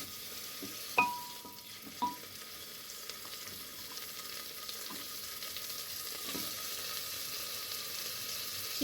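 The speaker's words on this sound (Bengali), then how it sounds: "দেখো এবার চিকেনটা দিয়ে দিচ্ছি" Chicken pieces go into a hot pan with a couple of sharp clanks, then a steady moderate sizzle of frying continues, with faint scraping now and then.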